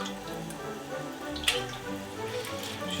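Tap water runs steadily while beef stock is rinsed in a kitchen sink, a soft continuous splash with a brief louder burst midway.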